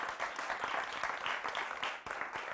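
A studio audience at a culture-themed news broadcast claps steadily, a dense, continuous wash of many hands close by with no voices over it.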